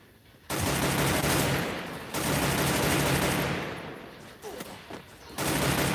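Gunfire in the mobile battle royale game Free Fire, bursts of loud, dense shooting that start abruptly, pause briefly, then resume with scattered shots before another sustained burst.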